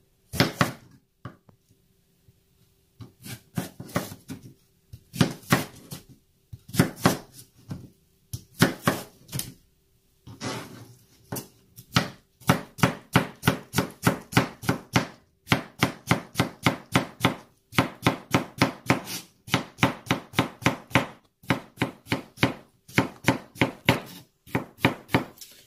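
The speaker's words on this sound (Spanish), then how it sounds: "Así lo vamos a cortar todo bien finito, cuadrito. El aguacate también." A knife chops avocado into small cubes on a cutting board for shrimp ceviche, a long run of crisp, rapid, evenly spaced knocks in bursts with brief pauses, close and clear.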